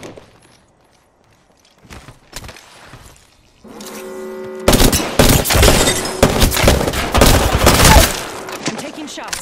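Loud, dense gunfire from an Apex Legends battle royale match: a few scattered shots at first, then sustained rapid bursts of overlapping fire, with some voice in places.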